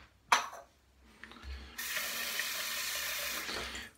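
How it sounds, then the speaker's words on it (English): Running water from a bathroom tap while rinsing off after a shave: a brief splash and knock, then a steady close hiss of flowing water that lasts a couple of seconds before cutting off. "I'm going to go ahead and rinse off"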